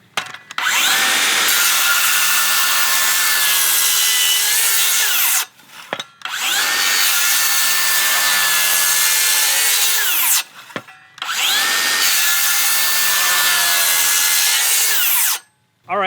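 A DeWalt power saw cuts through wood in three long passes, each a loud, close, sustained whine lasting about four to five seconds, separated by brief pauses where the motor stops.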